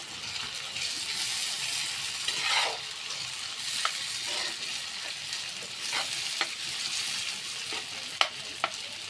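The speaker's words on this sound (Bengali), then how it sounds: "আমি পেঁয়াজগুলি হালকা করে একটু ভেজে নেব।" Onions frying lightly in oil in a pan, a steady hissing sizzle throughout, broken by occasional sharp clicks from stirring.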